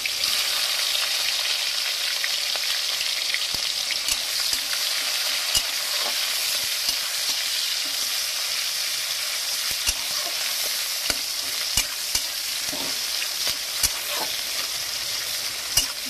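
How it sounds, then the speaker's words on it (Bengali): Onion and green chilli fry with tempering spices in a pan for a Bengali doi katla kalia, a constant loud sizzle broken by frequent scraping and clinking as the pan is stirred. "এবার আমি পেঁয়াজ দিয়ে দিচ্ছি। পেঁয়াজ আর কাঁচা লঙ্কাটা দিয়ে দিচ্ছি।"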